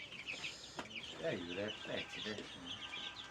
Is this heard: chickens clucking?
yes